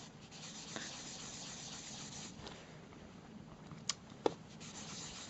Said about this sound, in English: Let's just apply kind of a base coat to this leather. My particular leather comes kind of like textured as you rub the polish in